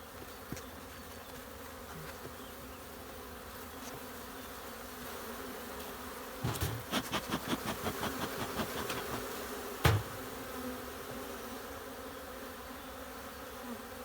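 Honey bees buzzing at an open hive during February hive care, a steady faint drone of many bees, with a burst of rapid clicking taps partway through and a sharp knock near the end.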